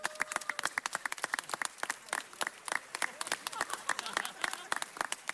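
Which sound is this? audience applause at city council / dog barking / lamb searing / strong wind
audience applause at city council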